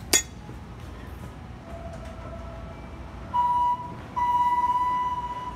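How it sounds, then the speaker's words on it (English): Bell of a ThyssenKrupp hydraulic elevator at a Menards store in Sheboygan, Wisconsin: two clear ringing chimes, the second longer and fading, over a steady low hum after a brief clunk. "we'll ring the bell"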